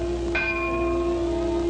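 A bell is struck to signal boarding of the China Clipper flying boat: one bright, clear strike rings out and sustains over a steady background hum.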